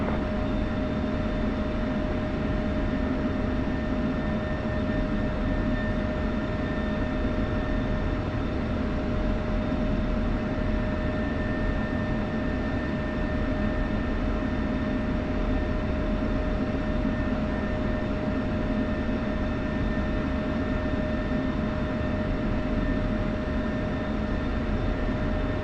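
F16 fighter jet engine roaring steadily in flight over Syria, a loud, unbroken broadband rumble with a constant tonal whine, with no pauses and no voices.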